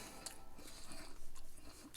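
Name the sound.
crunchy bite of fried deviled egg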